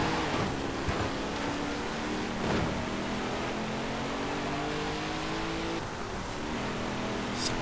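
A big V8 in a rear-wheel-drive period muscle car revs in Forza Horizon 4, a steady mid-range engine drone with shifting pitch bands and a few sharper surges, loud and continuous with no voices.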